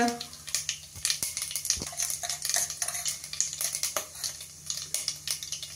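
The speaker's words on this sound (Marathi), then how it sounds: "मोहरी तडतडते, जिरं घालूया।" Sharp, irregular crackles and pops of mustard seeds spitting in hot oil in a pressure cooker, close and fairly quiet, with occasional clinks of a utensil against the pot.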